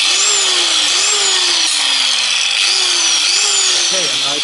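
An axe-sharpening machine runs steadily with a continuous grinding whir, its motor tone rising and dipping in repeated cycles, close and loud throughout.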